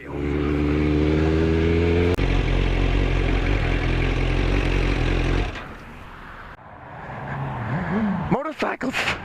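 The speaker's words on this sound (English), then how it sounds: "Motorcycles! Motorcycles!" Motorcycles pass close by with a loud, steady engine roar that cuts off abruptly, followed by quieter street noise and a further rising engine whine; voices talk over it.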